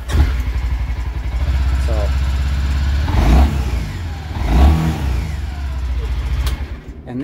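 A 2022 CFMoto U-Force 600 UTV, fitted with a cab and hand controls, runs its engine with a steady low rumble, rising in two revving surges, while someone talks nearby.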